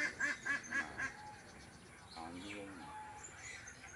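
Ducks on a pond quack four times in quick succession, then quieter mixed calls and faint voices fill the rest.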